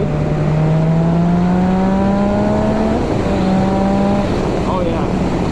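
A 2019 Yamaha XSR 900 motorcycle engine revs up loud and close, its pitch climbing steadily, dropping briefly as it shifts, then rising again.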